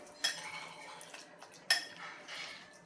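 A spoon stirs salt into semolina (rava) appe batter in a bowl, with two sharp clinks of metal against the dish and soft scraping between them, close and fairly quiet.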